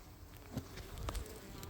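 Honeybees buzzing around an open hive frame outdoors, a steady close-up drone of many wings with a few individual bees passing near the microphone.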